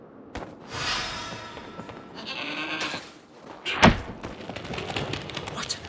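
A goat bleats in the snowy Trine 4 game world, giving a few wavering bleats with a sharp thump partway through, over light ambient game sound.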